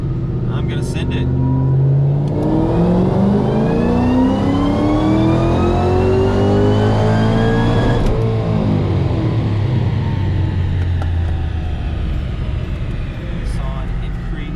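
A supercharged 2012 Ford GT500 fitted with a 2.8-liter twin-screw supercharger and smaller upper pulley revs hard at full throttle, a loud, close, sustained engine roar climbing in pitch through the gears with a brief dip midway.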